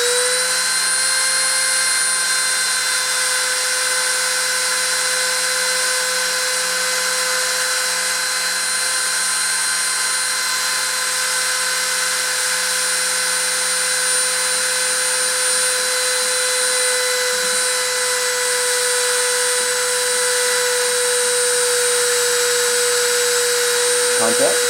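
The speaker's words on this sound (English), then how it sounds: "I'm going to start the spindle and start the deposition." A high-speed spindle running at 30,000 RPM during a deposition process produces a loud, continuous high-pitched whine with steady tonal harmonics that hold unchanged for nearly 25 seconds, with no variation in level.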